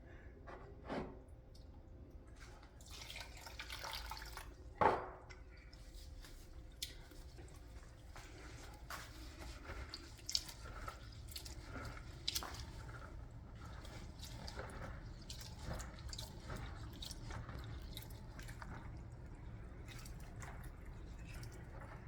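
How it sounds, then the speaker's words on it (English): Soaked rice and millet grain squished by hand in water while brewing chhaang, giving soft wet squelches, drips and liquid sloshing at close range, fairly quiet and continuous with a few sharper splashes. "you're just basically squishing the grain, the rice, the millet"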